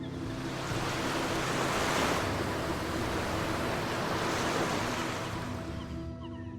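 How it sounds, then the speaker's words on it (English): Heavy sea waves crash continuously against the rocks below a lighthouse on a cliff, a loud, dense, roaring surf that swells and eases slightly, with wind noise and no voices. "Every few breaths a wall of water struck the rock below and sent a tremor through the tower"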